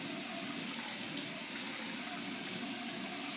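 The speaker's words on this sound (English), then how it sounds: "now I'm just gonna rinse this off." Tap water runs steadily into a sink as skincare product is rinsed off, a constant close hissing splash without pauses or talking.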